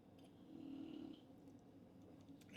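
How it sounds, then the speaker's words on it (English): A faint, low dog snore drifts in from nearby, one drawn-out breath rising and fading in a quiet room. "y'all might hear my dog snoring in the background"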